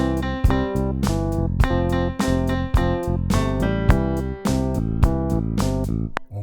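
Very simple drum beat with loose, unquantized timing, regular hits about twice a second alongside sustained pitched notes, clear and close with no talking.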